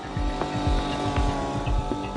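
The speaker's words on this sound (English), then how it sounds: "We're drilling these little rock cores, taking them out" A portable drill bores small rock cores out of granite outcrop, a rough motorized whine with rapid rhythmic pulsing and grinding, loud and close.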